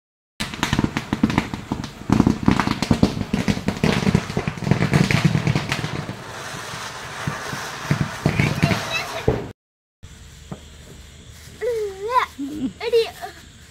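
Diwali firecrackers bursting outdoors in a dense run of sharp cracks and thuds, loud and close, with voices talking over them; after a short gap, quieter talk continues with a few scattered pops.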